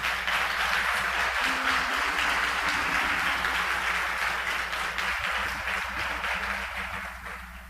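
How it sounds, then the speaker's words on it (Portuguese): A church congregation claps steadily in a broad, sustained wash of applause during a thanksgiving service, fading slightly toward the end, with no voices standing out. "Aplauda o nome do Senhor Jesus."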